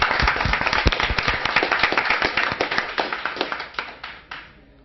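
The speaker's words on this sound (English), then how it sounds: "let's have one more round of applause" Dense audience clapping at a city council meeting rings out steadily for several seconds, then thins and fades away near the end.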